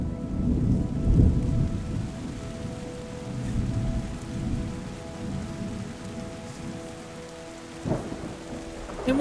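Rain falls steadily with rolling thunder in the nature-restoring video game Terra Nil, a continuous wash of rainfall broken by deep rumbles and a sharper crack near the end, with no talking.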